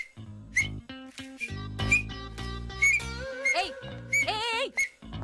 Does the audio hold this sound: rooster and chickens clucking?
no